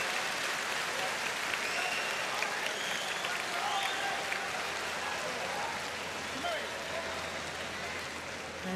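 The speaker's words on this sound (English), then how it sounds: "And the crowd in the background here just erupted there as Nagayama wins his first match of the day." A crowd in a judo arena at the World Championships applauds and cheers in a sustained roar lasting several seconds, filling the hall, while a commentator talks over it.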